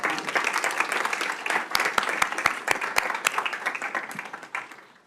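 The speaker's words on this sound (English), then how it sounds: "What a round of applause for Hannah and Aubrey." An audience at a school district board meeting claps in a moderately loud, steady burst of applause that gradually thins out and fades near the end.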